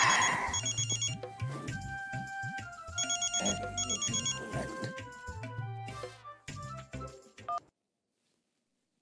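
A telephone sounds a quick electronic ring tone with repeated beeps and tones in a comedy TV scene, rising and falling over music and other sounds before it cuts off into silence.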